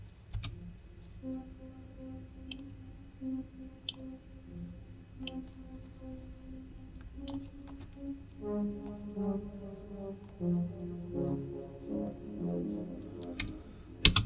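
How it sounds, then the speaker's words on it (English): A faint synth plays quick arpeggiated notes in a repeating pattern, with sparse percussive ticks in the background. "So the lead for the breakdown's more of an ARP style effect, ARP melody."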